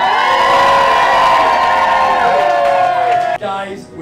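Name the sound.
applause and cheering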